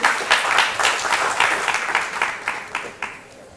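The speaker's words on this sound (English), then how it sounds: "Give him a big round of applause, please." Applause from the audience at a university business school undergraduate orientation, a rush of clapping that starts strong, then thins to scattered claps and fades out.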